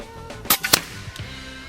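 A Meta Premium PCP air rifle tuned to 85 joules fires at a long-range target, a sharp, close crack followed by a quick second snap and a fainter trailing knock.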